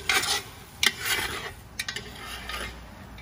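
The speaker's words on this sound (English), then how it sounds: "while this is sauteing, browning real nice" Onions sautéing and browning in a pot for a Cajun crawfish étouffée, with bursts of sizzling and scraping as they are stirred, a couple of sharp clinks in the middle, close up, with no talking.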